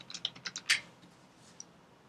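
A computer keyboard is tapped in a short burst of quick keystrokes while a VM name is entered during Proxmox setup, then goes quiet except for one last faint click.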